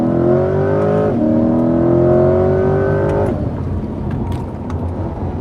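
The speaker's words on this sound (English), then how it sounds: "so we can hear the acceleration" A 2020 Chevrolet C8 Corvette Stingray Z51 engine in sport mode revs hard at full throttle and climbs in pitch through quick gear shifts, then the roar drops away into a lower rumble.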